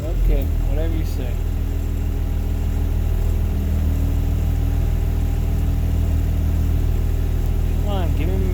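A Blue Bird bus engine idles with a steady, loud low-pitched rumble up close. Speech is heard briefly at the start and again near the end.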